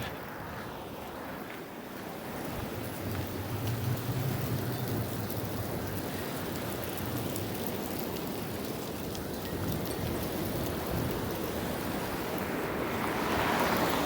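Wind gusts across a Toronto street walk in Koreatown along Christie Street in a steady, loud roar with buffeting rumble on the microphone and no speech.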